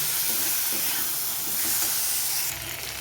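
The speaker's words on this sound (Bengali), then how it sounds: "তাই আমি বেশ কয়েকবার নেড়ে চেড়ে কষিয়ে নেব।" Spices sizzling and frying in hot oil in a pan for egg and potato curry, a steady loud hiss that thins slightly near the end.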